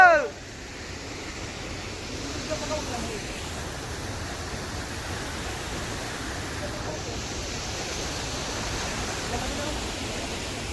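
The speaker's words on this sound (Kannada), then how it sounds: "ಭೀಮಾ ನದಿ" The Bhima river flows near Sannati, producing a steady, broad rushing roar that holds evenly throughout after a brief knock at the very start.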